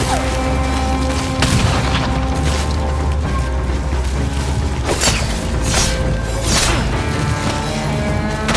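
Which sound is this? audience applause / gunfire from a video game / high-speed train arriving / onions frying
gunfire from a video game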